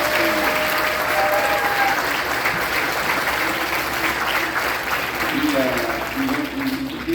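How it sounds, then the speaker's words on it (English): Sustained, even applause from a school concert audience for a combined 7th and 8th grade middle school band, dense clapping holding steady throughout with faint voices underneath. "let's give one big round of applause for the combined 7th and 8th."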